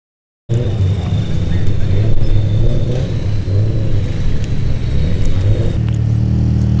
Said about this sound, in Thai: รถก็ทยอยเข้ามาเยอะมากแล้วนะครับ